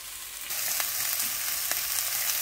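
Red onion frying in a skillet for an Italian sausage dinner, a steady close hiss of sizzling that swells louder after a moment, with faint stirring taps and no talking.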